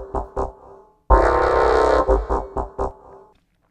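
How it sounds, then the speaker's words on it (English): A multi-layered vocal recording serving as a bass line pulses in short rhythmic bursts, then swells into a dense sustained chord before returning to clipped rhythmic hits, loud and close. "The basis for the bass is this multi-layered vocals right here"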